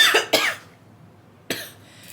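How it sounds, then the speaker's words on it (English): Three close, sharp coughs from one person: two quick ones in succession, then a third after a short pause. "Okay, that cough has been wanting to come out since."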